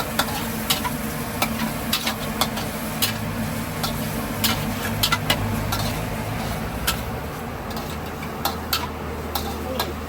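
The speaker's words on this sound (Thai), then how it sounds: "คั่วแล้วก็พยายามเขย่าอย่าให้มันติดกระทะอย่าให้มันไหม้" Continuous sizzling of pork stir-frying in a wok, with sharp metallic scrapes and clanks of a utensil tapping the pan at irregular intervals.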